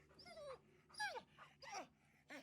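A hound that has turned into a were-dog growls and yelps in a few separate rising bursts, close and fairly loud, with a low steady rumble running underneath throughout.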